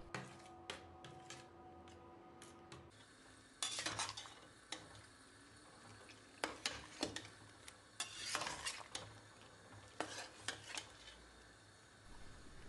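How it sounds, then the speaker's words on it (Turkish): Yogurt from the fridge stirred in a bowl, with soft wet scraping and intermittent clinks of a spoon against the bowl, close but quiet and with no talking. "buzdolabından yoğurt çıkarttım ve güzelce karıştırıyorum"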